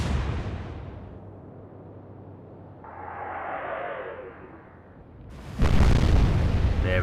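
Ship guns fire in the naval game Atlantic Fleet. A low rumble and a rising whoosh build up before one sharp, loud blast lands near the end.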